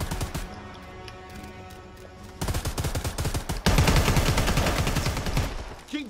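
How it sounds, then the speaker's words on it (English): Automatic gunfire in the video game Predator: Hunting Grounds, rapid rhythmic bursts that start mid-clip and grow louder and denser into sustained close shooting. "Keep shooting!"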